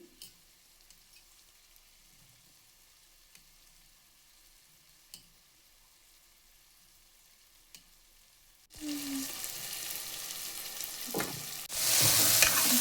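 Quartered mushrooms tossed into a pan for a mushroom methi peas pulao; near silence first, then a sudden loud sizzle with stirring scrapes, growing more intense toward the end.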